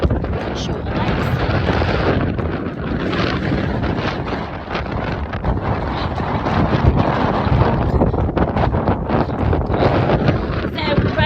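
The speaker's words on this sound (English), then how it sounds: "I can't tell you how windy it is" Strong wind buffets the microphone outdoors during a horseback hack, a continuous loud roar of gusts that barely lets up, with speech partly buried beneath it.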